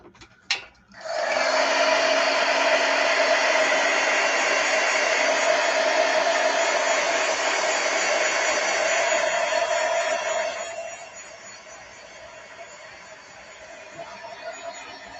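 Hair dryer blowing on a wet watercolor painting, a loud steady whoosh that switches on after a click and runs alone, then drops to a lower setting near the end.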